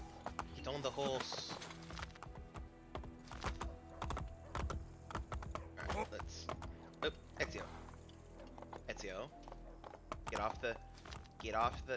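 Rhythmic hoofbeats of a galloping horse in Assassin's Creed Brotherhood, mixed with speech, clicking keys and game sounds.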